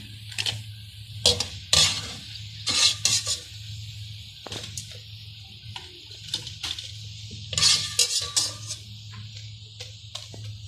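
Potato and onion pakoras lifted out of frying oil, with clinking metal utensil taps and scrapes against the pan in scattered bursts over a low steady hum, close and moderately loud, no talking.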